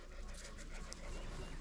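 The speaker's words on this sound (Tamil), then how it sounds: "நாய் கடிக்குமா?" A dog pants nearby in short, quick breaths for under two seconds over steady outdoor background noise.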